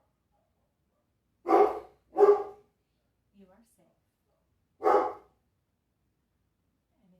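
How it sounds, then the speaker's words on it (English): Big dog barking in the background, three distinct deep barks with two close together and one after a pause, in an otherwise quiet setting with a soft voice speaking between them. "You hear the big dog in the background"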